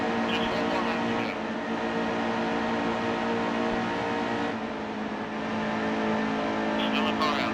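Race car engines drone and whine in NASCAR Heat 2 on a final lap, a loud steady multi-engine roar with shifting pitch, as someone talks over it.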